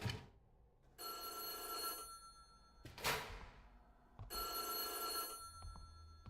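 A telephone in the horror game White Day rings in two long bursts separated by a pause, each ring a bright electronic trill, with a sharp clatter between them and no talking.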